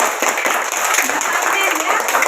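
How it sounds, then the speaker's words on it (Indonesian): Classroom group clapping for a discussion group, a busy, bright patter of many hands at close range, continuous and fairly loud throughout. "coba semua tepuk tangannya untuk kita yang berdiskusi"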